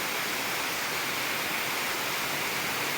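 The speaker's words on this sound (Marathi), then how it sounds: "पाऊसच पाऊस झाला आहे जोरात आवाज येतोय पत्र्यांचा लय मोठ्याने आवाज येतोय" Heavy monsoon rain drumming on metal roof sheets at a farm, a loud, dense, unbroken roar of rainfall with no pauses.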